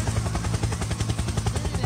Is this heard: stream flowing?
no